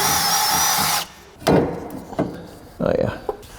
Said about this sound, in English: I'm going to start with a smaller drill bit and work my way up